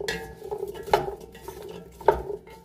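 Red pepper flakes and other ingredients for a spicy vegan 13-bean soup being stirred in a pot, with a spoon clinking twice against the metal over soft rustling stirs.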